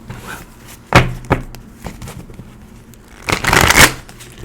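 Tarot cards being shuffled for a reading, with a few sharp riffling bursts near the start and a longer, louder flurry of card shuffling toward the end, with no talking.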